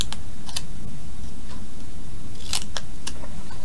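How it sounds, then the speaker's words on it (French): Scissors snip through paper in a handful of crisp, separate cuts, spaced irregularly and loud and close, over a low background hum. "on va couper comme ceci"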